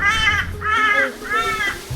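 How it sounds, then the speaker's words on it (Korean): A crow caws three times along a windy mountain path on Ishigaki island, Japan, each harsh call evenly spaced and fairly close, over a low rumble of wind. "까마귀마저도 무섭다."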